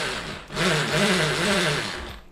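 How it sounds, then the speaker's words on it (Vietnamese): A Bosch hammer drill with a 13 mm chuck, run in hammer drill mode, whirs up abruptly after a brief pause and holds a loud, buzzing, slightly wavering motor drone for about two seconds before winding down. "Chức năng khoan búa."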